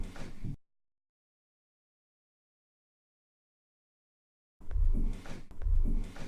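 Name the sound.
handling noise from touching the recorder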